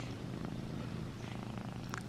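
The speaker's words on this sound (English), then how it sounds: "you hear her purring?" A soft, steady cat purr rumbles continuously at close range, low and quiet, with no talking.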